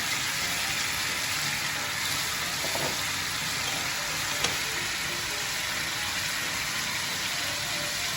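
Chicken tikka masala frying on a hot tawa, giving a steady, loud, continuous sizzle with no pauses and one brief sharp clink near the middle.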